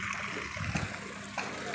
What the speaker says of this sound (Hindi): अब मैं थोड़ा सा पानी भर लूँ